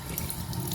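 Water pours and drains off rice washed several times for chicken biryani, a short, close, continuous splashing rush.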